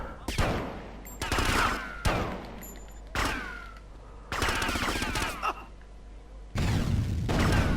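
Gunfire in GTA: Vice City: loud bursts of rapid automatic shots in several separate volleys, broken by short quieter gaps with faint game background.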